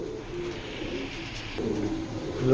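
Racing Giribaj pigeons coo softly in the background, low steady murmuring coos swelling slightly near the end over a faint ambient hum.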